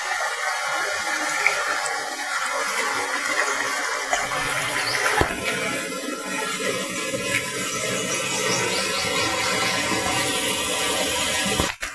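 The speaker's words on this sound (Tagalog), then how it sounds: "Yun, ilog na." River water flowing nearby, a loud, continuous rushing and gushing that stays steady throughout, with no voices over it.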